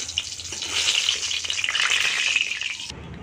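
Ridge gourd pieces frying in hot white oil, a steady close sizzle and crackle running nearly three seconds before cutting off abruptly near the end.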